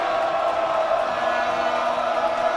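A home crowd fills a basketball gym at a high-school tournament game, a loud, continuous roar of many voices with cheering and shouts blending into one steady wall of noise.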